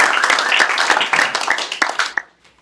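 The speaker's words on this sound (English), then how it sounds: "Give him a great round of applause from Bailey's, Justin Haley." An auction audience claps and applauds, a dense burst of hand claps filling the room for about two seconds before it quickly tapers off into quiet.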